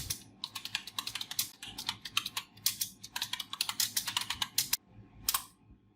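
Rapid typing on a computer keyboard while writing a document in MS Word, dense bursts of close key clicks with brief pauses, ending in a short final flurry and no speech.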